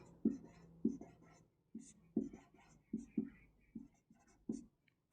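Chalk or marker strokes on a classroom board during a physics lesson on convex and concave lenses, a series of short, fairly close scratchy taps spaced through the clip with faint murmuring between.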